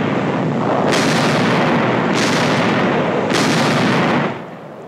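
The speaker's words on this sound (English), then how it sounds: "A heavy artillery barrage prepares the way for the infantry advance." Three loud, rolling booms of a 1945 Pacific War heavy artillery barrage follow one another about a second apart, each a sustained roar before fading.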